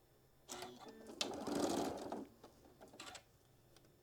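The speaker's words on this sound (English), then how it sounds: "And then just sew a 1/4 inch all the way down." Sewing machine stitching a quarter-inch seam along fabric, a quick rattling run of needle strokes in short bursts, close and fairly quiet.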